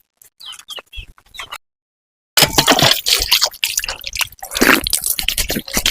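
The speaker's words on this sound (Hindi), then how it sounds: "यहाँ मुंह धो रहे हैं।" Water splashing and dripping as someone washes their face outdoors, a few faint wet drips early on, then a pause and a run of loud, close splashes with birds chirping in the background.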